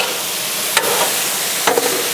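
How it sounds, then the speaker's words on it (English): Pork is stirred and fried on a hot griddle: two quick scraping strokes of a spatula cut through a steady close sizzle. "Keep our pork moving."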